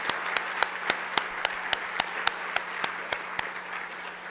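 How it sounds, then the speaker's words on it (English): An audience applauds sponsors at a business event on politics, economy and trade: a broad wash of steady clapping with several sharper individual claps standing out, moderately loud and sustained throughout. "A round of applause to all of our sponsors."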